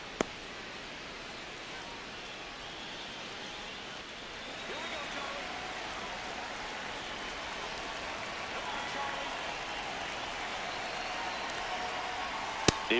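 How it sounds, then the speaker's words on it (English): Steady rain pours onto the ballpark in MLB The Show, a constant hiss that thickens slightly partway through, with a couple of sharp clicks at the start and end and no voices. "This rain is not letting up."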